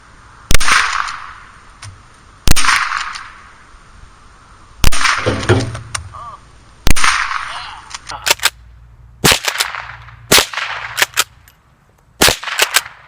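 Rossi Model 62 .22 pump-action rifle fired outdoors at beer cans: about eight sharp, loud cracks spaced unevenly over the stretch, some with ringing or splattering tails as cans burst, and no talking.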